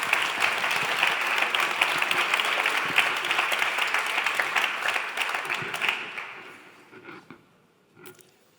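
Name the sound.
audience applause for award finalists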